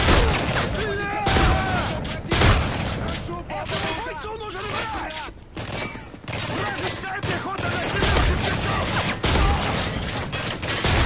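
Video game gunfire pours out in dense, continuous bursts of many shots at an enemy, loud and rapid, with someone talking over the shooting.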